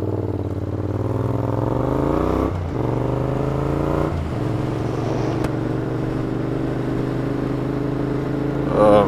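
A Honda NC700 motorcycle engine idles nearby in a garden, a steady low rumble with harmonic bands that dips briefly twice and swells slightly at the end.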